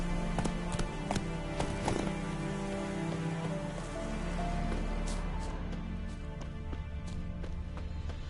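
Roach the horse gallops in The Witcher 3, hooves clip-clopping steadily over a rain-like patter of ambient noise, moderately loud and continuous with no talking.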